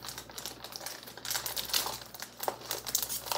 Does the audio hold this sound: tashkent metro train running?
no